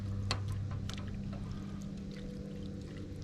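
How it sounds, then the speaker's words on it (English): Beans with pepper stirred in a pot at a truck campsite, a soft continuous sloshing and scraping with a few light knocks, steady and close throughout. "Give that a stir."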